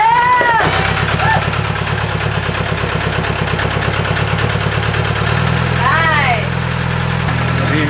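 A sailboat's inboard engine catches and settles into a steady, loud, pulsing idle close by, with a shift in pitch partway through as it runs on.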